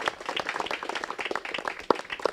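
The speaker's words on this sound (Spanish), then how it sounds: "regalémonos un fuerte aplauso a todos" Applause from a forum audience on mining impacts in Bajo Lempa, a scattered patter of claps with a few sharper, louder slaps near the end, no voices over it.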